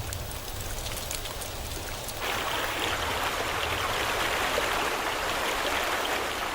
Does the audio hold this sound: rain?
yes